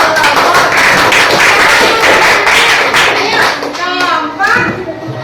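Schoolchildren in a classroom clap together in a loud, rhythmic burst of hand claps for a group of classmates, with children's voices and chatter rising near the end.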